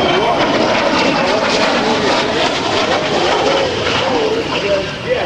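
A Sea Harrier FA2 jet with a Rolls-Royce Pegasus engine runs with a loud, steady roar at the Cleveland National Air Show, the engine noise continuous beneath a commentator talking.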